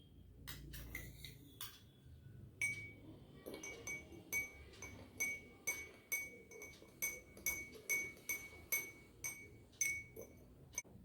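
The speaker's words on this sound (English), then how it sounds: "Now I am going to add sugar in glass 2" Repeated light clinks of a spoon against a glass of water as sugar is added, a steady rhythm of small taps and stirring, close and clear with no voices.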